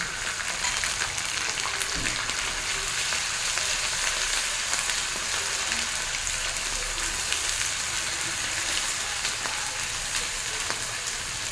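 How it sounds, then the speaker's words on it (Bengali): A paste of ginger, garlic, onion, green chili and cardamom fries with onions in oil for an egg curry, making a continuous, even hiss and crackle close by, with no voices. "এই অবস্থায় আমি দিয়ে দেবো আদা, রসুন, পেঁয়াজ, কাঁচা লঙ্কা, এলাচের পেস্টটা।"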